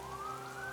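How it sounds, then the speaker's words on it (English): A wailing siren tone in the video game Nikke rises slowly and steadily over a constant hiss that sounds like falling rain, with no voices. "Siren blares."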